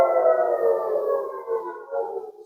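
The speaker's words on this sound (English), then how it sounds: "Sirens ring in the new year in Israel as Hamas fired rockets." An air raid siren in Israel wails, holding a high, sustained tone that slowly drifts, heard alone and fairly distant, with no talking.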